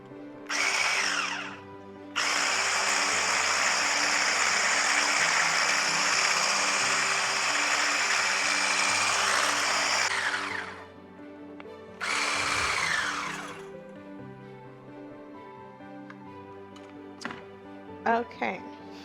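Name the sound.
mixer blending body butter ingredients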